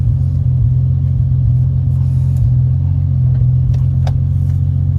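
A car with a 2JZ engine idles and drives with a steady, loud low rumble throughout, no voices.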